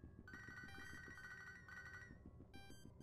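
A cell phone rings in a Pokemon video game, a steady electronic trilling ring repeated in bursts with a short gap before the final burst, faint and alone.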